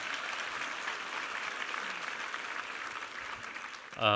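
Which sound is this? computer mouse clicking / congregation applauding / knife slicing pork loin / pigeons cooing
congregation applauding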